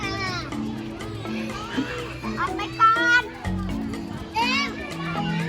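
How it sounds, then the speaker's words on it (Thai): Kindergarten children at playtime, many small voices chattering, shouting and squealing at once, loud and close, with bursts of excited calls over a busy background of play. "ก็เป็นช่วงเวลาที่เด็กเล่นนะคะ"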